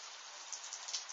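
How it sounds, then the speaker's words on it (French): Sleet and rain pour down in a moderate winter storm in Sologne, France, a steady dense hiss with a few slightly louder gusts of patter, faint and continuous with no talking. "C'est plus que de la pluie qui tombe."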